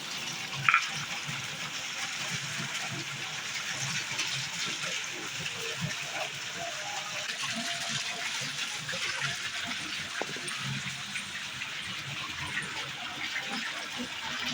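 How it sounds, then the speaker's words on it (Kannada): Steady rainwater pours and splashes continuously from two roof drain pipes off a terrace, a broad gushing roar close by that holds at an even level throughout. "ಈ ಕಡೆ ಒಂದು ಪೈಪು ಆ ಕಡೆ ಒಂದು ಪೈಪು ಎರಡು ಕಡೆಯಿಂದ ನೀರು ಹರಿಯಾತೈತಿ"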